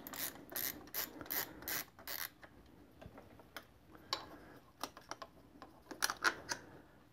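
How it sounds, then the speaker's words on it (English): A ratchet with a 10 mm socket turns the nut holding a reflector on a Kawasaki KLR650 motorcycle, making quick runs of crisp, close clicking with short pauses between strokes. "we can remove the two reflectors using a 10 millimeter socket"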